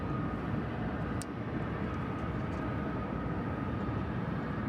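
An airliner in a special livery passing at DFW Airport, a continuous loud jet engine roar holding steady throughout with a faint click early on.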